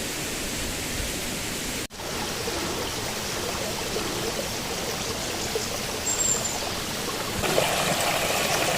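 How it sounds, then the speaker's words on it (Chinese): A clear mountain stream in the Qinling Zhongnan range flows along a hiking path, its steady, even rushing and trickling filling the background at moderate level throughout. "清澈的溪水"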